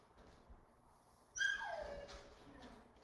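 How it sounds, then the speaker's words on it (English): A small dog lets out a single high, wavering whimper that slides downward, clear and close against a quiet room. "That would be George the puppy"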